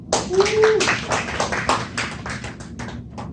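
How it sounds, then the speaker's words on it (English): An audience at a career talk gives a short round of applause for the presenter, a dense patter of claps that thins out over a few seconds, with a brief voice near the start. "Can we have like a round of applause for Washim?"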